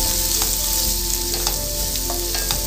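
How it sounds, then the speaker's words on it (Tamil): Sliced onions sauté in hot oil in a pan for an egg curry, a steady loud sizzle and crackle with occasional spits and stirring scrapes, continuous throughout with no talking. "வெங்காயத்தை நல்லா வதக்கிடலாம்."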